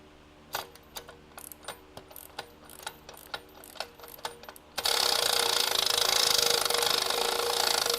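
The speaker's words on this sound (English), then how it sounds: "get my ratchet, get the electro ratchet out" An electric ratchet drives bolts on the posi rear end of a 1991 Camaro: a run of light, regular mechanical clicks gives way to a loud, steady motorized whirring that continues to the end.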